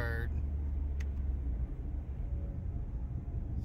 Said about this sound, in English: My foot's to the floor, I'm just shifting with the paddle shift.